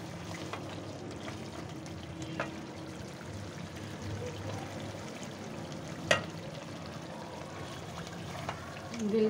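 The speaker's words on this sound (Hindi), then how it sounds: "अब इसको हम इसी के अंदर थोड़ा सा भूनेंगे।" Tomatoes and meat for lauki gosht being fried in oil in a pot, a steady low sizzle with occasional stirring clinks and a sharp knock, fairly quiet and without speech.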